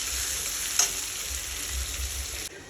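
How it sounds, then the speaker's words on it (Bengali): Sliced onions fry in hot oil in a pan, giving a steady, close sizzle with a brief clink of a spoon stirring, then an abrupt drop in level near the end. "তো এখন তেলে পেঁয়াজগুলো দিয়ে দেবো। পেঁয়াজগুলো আমি ভালো মতো এখন ফ্রাই করে নেব।"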